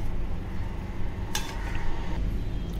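A metal steaming rack is set into a cooking pot, giving one bright metallic clink and rattle in the middle of a quiet kitchen background, brief and fairly close.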